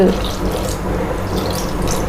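Water is poured into a pot of mutton pieces for a stovetop varuval, a steady, close splashing pour lasting about two seconds.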